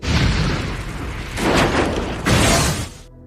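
A car explodes in a film: a loud explosion booms, followed by two more roaring blasts with crackling debris, then sudden silence.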